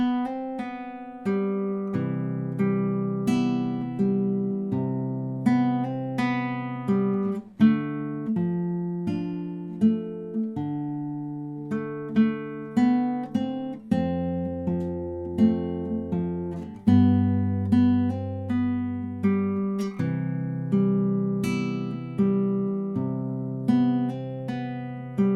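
Fingerstyle acoustic guitar plays the first line of a song, a steady flow of plucked chords and low bass notes ringing close and clear for about twenty-five seconds, with no talking.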